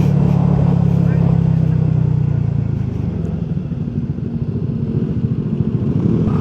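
Honda Giorno 160cc scooter riding on wet, muddy roads in Infanta, Quezon, its engine droning and rumbling steadily under wind noise, with a rider speaking over it.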